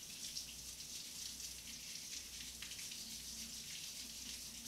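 Tap water runs steadily over large carrots being washed in a kitchen sink, a continuous soft splashing hiss that stays faint and unbroken throughout.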